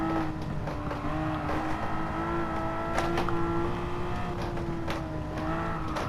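Porsche 911 engine in the Gran Turismo 7 racing game, a steady, sustained drone holding in third gear at speed through fast corners, loud and constant with little change in pitch.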